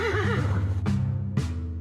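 A horse in the Yuppie Psycho video game lets out a loud, wavering whinny, followed by two sharp, breathy snorts.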